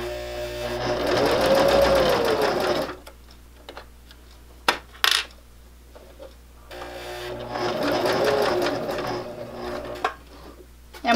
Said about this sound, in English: So we just start our machine and we're going to stitch all the way around.